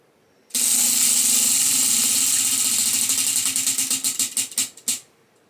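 A prize-style spinning wheel for choosing books whirs into a fast, close rattle of clicking pegs that gradually slows, the clicks spreading apart until the wheel stops after about four and a half seconds.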